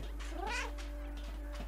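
A cat meows once in the video game Stray, a clear rising then falling cry over a steady low electronic hum, with a faint second mew near the end.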